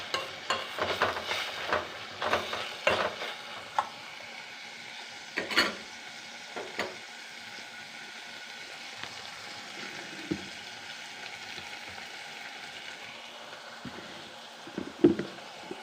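Tomatoes fry and soften in a pan with a quiet ongoing sizzle, while a spoon stirs and scrapes in irregular clusters of clinks, heaviest early on and near the end.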